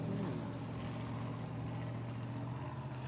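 A race boat at the Gundy 500 takes off under a loud, continuous, droning engine roar that stays steady and fairly close throughout, with no voices.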